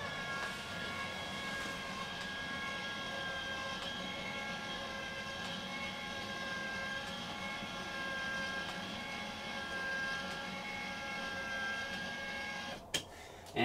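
A motorized windshield sunshade in a vehicle being raised, giving a steady, even electric motor hum with faint whine that runs unbroken for about thirteen seconds before a click as it stops.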